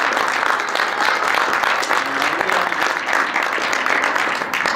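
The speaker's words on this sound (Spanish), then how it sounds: "Bueno, pues un aplauso." Audience applause in a lecture or talk-show hall, a steady dense wash of clapping that holds at an even level for several seconds with no voices over it.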